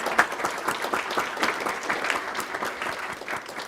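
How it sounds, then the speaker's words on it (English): A round of applause for recognized employees at a school board meeting: crisp, close hand claps from a modest group, steady and lively throughout without speech. "Let's give all of these employees a round of applause."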